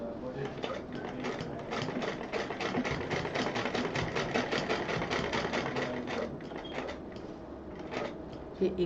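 A sewing machine stitches the centre seam of a DIY purse, running in a steady, rapid mechanical patter for most of the stretch before slowing near the end.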